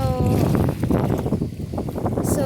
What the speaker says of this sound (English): over here in this lake, it's really windy